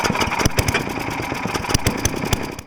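A snow-clearing engine, likely a snowblower, runs loud and close in a snowy neighborhood, a rough, sputtering drone with irregular popping bursts and steady revving throughout.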